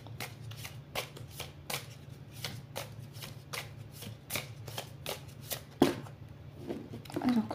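Someone shuffles a deck of oracle cards in rapid riffling bursts at a quick, even rhythm, close up and crisp, with a few louder snaps of the deck near the end.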